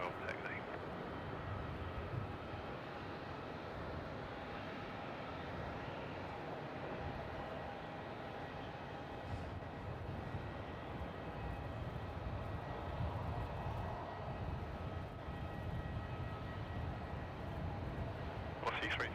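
At Melbourne Airport, a jet's engines roar as it taxis and heads into takeoff, a broad, sustained rumble that holds steady throughout, with air traffic control radio voices running over it.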